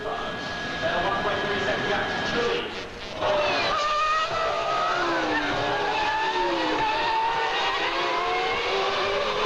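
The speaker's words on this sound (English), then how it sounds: "Locking up the brakes is Verstappen" Formula 1 cars racing at the 2000 German Grand Prix, high engine whines rising and falling as cars pass, with a brief dip and a tire squeal from locked brakes, all under steady race commentary.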